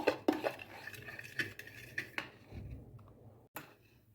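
Kefir and egg batter for pancakes being whisked in a bowl, with a few sharp clinks of utensil against the dish over soft scraping and stirring, close and alone.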